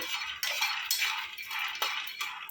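Peanuts tumble into a pan for dry roasting, a quiet, steady rattling and clinking of small hard nuts against metal, with a few sharper clicks standing out.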